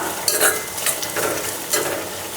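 Grated coconut roasting in a pan for Kerala-style erissery, stirred with a spoon, giving a close, dry rustling sizzle with a few sharp scraping strokes and no talk.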